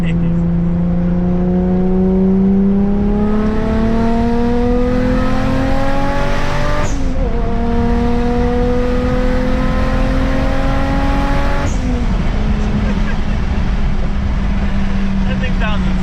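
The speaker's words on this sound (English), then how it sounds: "This car sounds insane already." Volkswagen Corrado engine with 13 pounds of boost, untuned, revving close by in long rising sweeps that drop back between pulls, loud and continuous.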